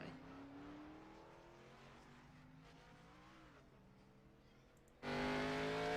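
The number 14 Chevrolet race car on its out lap in an eNASCAR Cup Series qualifying session at Daytona drones steadily, its pitch rising and falling slightly, then the engine suddenly grows much louder near the end.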